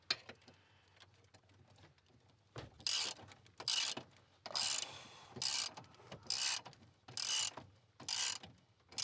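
Repeated ratcheting bursts from a socket wrench loosening a part during a shift tube replacement on a Ford Super Duty truck, about seven short clicking runs in a steady rhythm, close and fairly quiet, with no talk.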